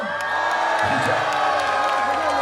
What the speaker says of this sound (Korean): 함성 한번 들려주세요